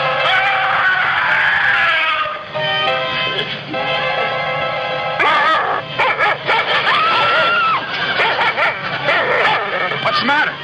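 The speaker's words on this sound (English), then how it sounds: "Just a dog." A dog barks, yips and whimpers in an old film scene, mixed with excited voices talking over it, loud and close, with bursts of whining and sharp yaps throughout.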